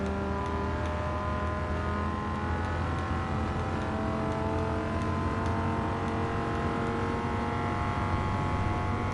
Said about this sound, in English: the Dodge Viper has an amazing sound